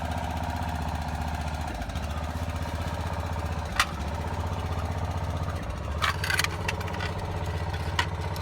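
Engine-driven foundation jacking machine running at a steady idle-like drone, close and continuous, with a few sharp metallic clanks and taps over the top.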